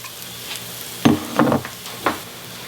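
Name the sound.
spice mix sizzling in a pan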